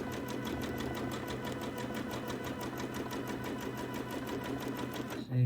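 A sewing machine stitches a scrappy toddler's quilt with a fast, even mechanical chatter that runs steadily, then cuts off with a thump near the end.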